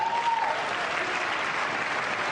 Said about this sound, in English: It's not an enthusiastic round of applause, but some Democrats applauded.